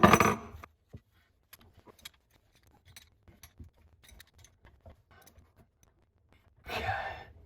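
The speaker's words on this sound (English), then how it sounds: "let's tighten up the bottom so we know it's secured" Bottom fitting of an under-sink water filtration valve being tightened by hand: sparse, quiet clicks and small plastic taps, with louder handling rustles at the start and end.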